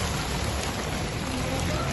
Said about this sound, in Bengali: বৃষ্টি পড়ছে প্রচণ্ড আমরা সবাই ছাতা নিয়ে যাচ্ছি